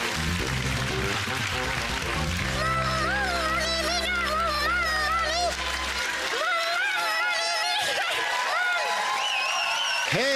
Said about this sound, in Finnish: Annetaan isot aplodit, Munamies!